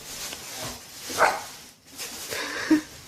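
A dog gives a couple of short, moderately close barks, spaced over a few seconds, against a faint outdoor background.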